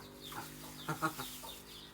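Several short clucks from native chickens, bunched in the middle of the clip, over a steady low background hum.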